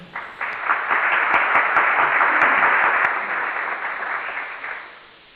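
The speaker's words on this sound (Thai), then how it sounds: "ปรบมือ" A crowd claps in steady applause that swells quickly, holds for several seconds, then thins out and fades near the end.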